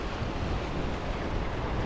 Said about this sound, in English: the Lord sent a strong wind that drove back the waters until they were parted